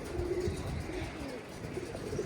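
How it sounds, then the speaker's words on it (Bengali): Pigeons, males and females together, coo softly at a loft, low rounded calls repeating over a steady bed of faint background noise. "এই যে আমাদের কবুতরগুলো"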